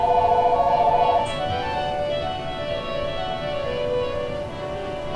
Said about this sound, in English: that's my phone. You can ignore that.